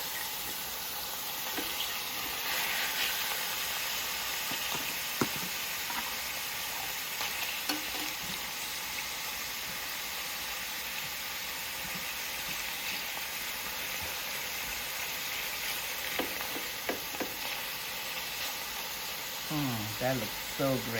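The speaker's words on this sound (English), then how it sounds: "I'm going to add the shrimp" Shrimp fry in a pan for seafood pasta, giving a steady low sizzle with occasional stirring clicks and a brief splash of running water near the end, close but fairly quiet.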